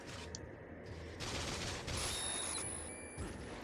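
Gunfire in the video game Quantum Theory as crystals get shot, steady bursts of fire over a dense in-game backdrop, moderately loud, with no talking.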